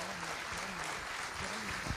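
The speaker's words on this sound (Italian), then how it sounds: "Questi applausi sono tutti per te." Applause fills a theatre during a concert show at Teatro Mercadante, a broad wash of clapping from the audience with a voice speaking over it.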